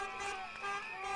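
Car horns sound in overlapping tones against city street traffic noise in Venezuela, a sustained honk with short toots layered over it.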